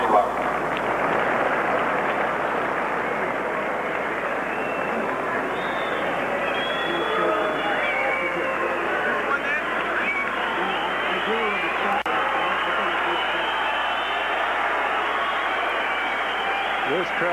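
Crowd at the 1989 Masters tennis match between Lendl and McEnroe, a steady murmuring and stirring throughout with a commentator talking over it.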